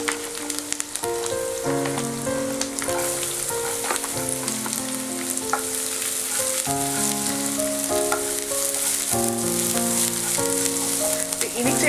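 Ginger and garlic fry over high heat in a pan for chilli chicken sauce, making a continuous crackling sizzle beneath steady background music.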